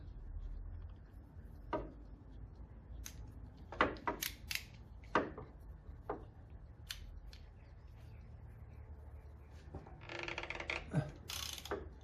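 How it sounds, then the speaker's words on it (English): A strap oil filter remover tightens and loosens the oil filter on a Triumph TR6, making quiet, scattered ratcheting clicks and creaks with gaps of near-silence between them. "using a strap oil filter remover here, we're going to put that around the filter, tighten that up anti-clockwise"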